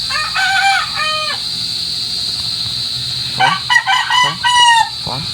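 A chicken in the Minecraft video game gives repeated clucks and squawks in short bursts, alone over a steady electronic hum, with a busier flurry of calls near the end.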